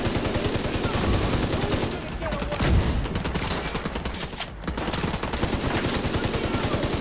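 Dense rapid gunfire in The Division 2 video game, loud continuous bursts of automatic shots layered over each other with brief dips, no talking.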